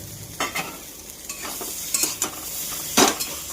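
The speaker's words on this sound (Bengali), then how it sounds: "এবার আমি তেলে আলু বেগুন কষে নেব" Potato and eggplant frying in oil in a pan, with salt, turmeric and green chillies, the ingredients stirred in bursts of scraping and sizzling, loudest near the end, with no talking.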